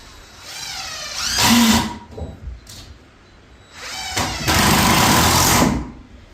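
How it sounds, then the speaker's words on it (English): A power drill drives deck screws into wooden wall studs in two loud bursts, a short whirring run followed by a longer grinding drive, with a brief quieter pause and small clatter between them. "put my screws in. And these are just deck screws."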